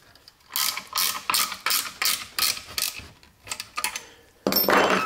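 Bolts on a firewall patch of a Triumph TR4 are tightened with a ratchet in a series of close, rapid clicking bursts, about nine short runs of pawl clicks in a steady rhythm, ending with a louder metallic rasp.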